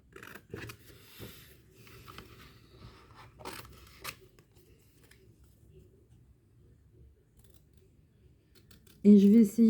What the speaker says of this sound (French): je vais essayer de découper mes premières pièces